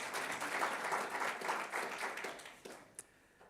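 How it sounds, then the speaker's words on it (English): Audience applause at an inauguration ceremony, a fairly quiet, distant round of clapping that swells and then fades out, ending with a few isolated claps. "Can you please give yourselves a round of applause?"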